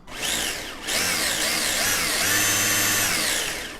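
Tamiya TT-01 radio-controlled Porsche 911 car with its electric motor and spur gear running, a high whirring whine that rises and falls with throttle in a few bursts, close and fairly loud, with no talk.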